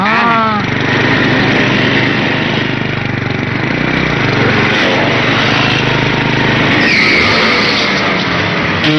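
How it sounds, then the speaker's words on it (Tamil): Loud, continuous roar of motorcycle engines revving and passing close by, with rising and falling whines as the bikes speed past, no gaps of quiet. "அட மோட்டர் பைக்குப்பா"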